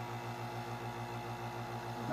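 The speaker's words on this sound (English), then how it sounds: "Gonna pull a vacuum on it." Vacuum pump drawing a vacuum on an oil-filled neon sign transformer, a faint steady low hum with a regular pulsing throb, unchanging until a slight rise at the very end.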